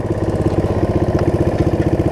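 A Snapper rear-engine riding mower idles steadily after being throttled down, a close, even, pulsing putter with a regular low thump throughout and no talking.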